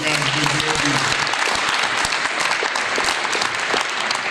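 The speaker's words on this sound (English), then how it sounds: "Give yourselves a round of applause" An audience at an awards event claps loudly and continuously in a thick wash of applause, with a voice talking briefly at the start.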